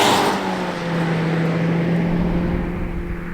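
2022 Toyota Corolla XSE Apex Edition engine and exhaust droning steadily under acceleration, a sustained buzzing tone holding close and fairly loud inside the cabin, with no talking.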